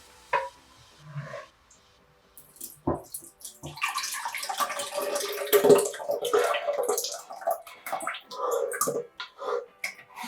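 Dissolved sea moss liquid is poured into a container, a wet splashing and trickling flow that builds from about four seconds and runs steadily to the end, close and fairly loud, after a few scattered kitchen knocks and small sounds.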